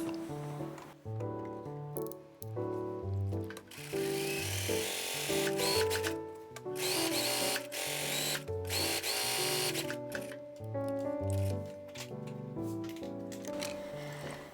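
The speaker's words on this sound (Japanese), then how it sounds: "裾の7ミリのところを粗い目で縫っていきます" A sewing machine runs a long, coarse basting stitch along a hem, a steady mechanical whir with rhythmic needle chatter that pauses briefly several times.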